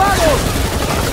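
Gunfire from the video game Guardians of the Galaxy in a space battle, a loud continuous burst of shots filling the short clip with a brief whistling tone early on, mixed with game effects.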